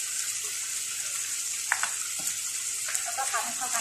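Squid stir-fried with chili and curry paste, kaffir lime leaves and beans in a hot pan, giving a continuous loud sizzle with occasional scraping of the spatula, close up and without speech.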